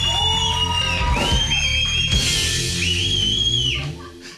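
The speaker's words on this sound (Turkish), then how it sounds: "Çığlık değil, ıslık var. Islık. Islık, arkada bir ıslık koromuz var arkadaşım." Audience at a Turkish late-night talk show lets out shrill, sliding whistles from several people at once, rising and falling over crowd cheering and whooping, loud and sustained before tapering off at the end.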